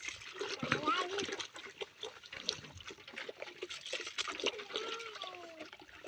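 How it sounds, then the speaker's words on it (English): Rice being washed by hand in water in a pot in a rural Botswana/South Africa home, with sloshing, splashing and trickling over about six seconds, close and fairly loud, with voices talking throughout. "I'm washing my rice"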